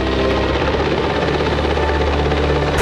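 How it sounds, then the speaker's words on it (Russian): A Mi-6 heavy helicopter flies over mountains, its rotor and engines producing a loud, unbroken, close droning roar with no pauses or voices. "Неожиданно вертолет меняет курс."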